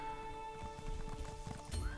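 An imperial horse in The Elder Scrolls Online whinnies and stamps, with clip-clopping hooves and a rising neigh near the end over a quiet, tonal game backdrop.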